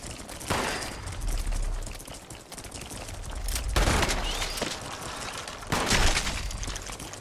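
Gunfire in Fallout 76 against a massive creature: a rolling fusillade of shots with heavier bursts recurring every couple of seconds, loud and continuous across the stretch.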